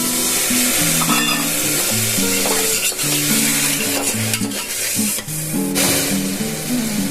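Spices for khichuri sizzle and spatter in a pan after a little water is added, stirred throughout with a loud, close hissing spray, while a melodic background music line plays underneath.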